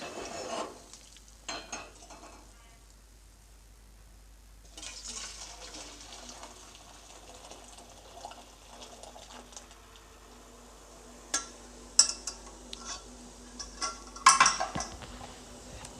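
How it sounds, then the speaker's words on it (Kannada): Melted jaggery syrup being poured and strained through a filter into a vessel, with soft liquid pouring, stirring, and a few sharp metallic clinks of utensils near the end. "ಬೆಲ್ಲ ಚೆನ್ನಾಗಿ ಕರಗಿದೆ ಈಗ ನಾನು ಇದನ್ನು ಫಿಲ್ಟ್ರ್ ಮಾಡ್ಕೊಳ್ತೀನಿ"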